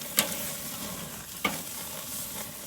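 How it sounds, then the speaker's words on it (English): Ribeye steaks searing on a hot Weber kettle grill: a constant loud sizzle, with two sharp clicks of tongs or a spatula against the grate. "We're gonna get these ribeyes on, get a nice sear going"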